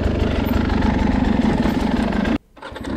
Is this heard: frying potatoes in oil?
no